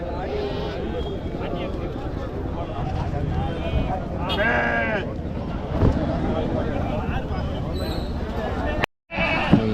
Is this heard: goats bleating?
yes